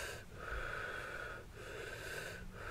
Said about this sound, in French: Une respiration circulaire sans rétention.